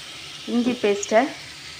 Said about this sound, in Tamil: இதெல்லாம் வெட்டி வைத்த எல்லாத்தையும் போட்டு உப்பும் போட்டு நாங்கள் தாளிக்கணும்